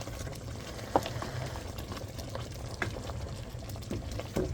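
Beef short ribs simmer in chicken stock, a steady low bubbling hiss with occasional faint pops and splashes, close up and with no voices.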